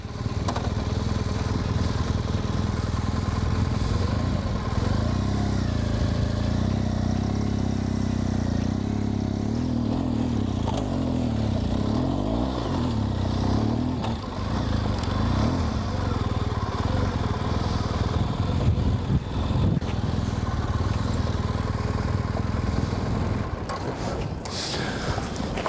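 A BMW motorcycle in Enduro mode climbs a hill with a steady mid-distance engine drone that wavers and stumbles a few times. It runs moderately loud the whole way up.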